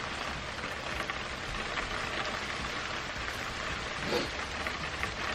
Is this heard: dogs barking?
no